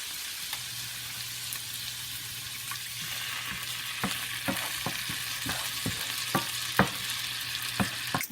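Salmon sautéing in a pan with lemon juice and water, a continuous bright sizzle under a low hum, with crisp pops and spatula clicks growing more frequent toward the end.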